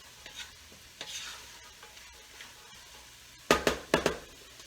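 Cooked beef stirred into barley soup in a pot, heard as a few soft scrapes early on, then a loud cluster of sharp spoon-against-pot strokes near the end.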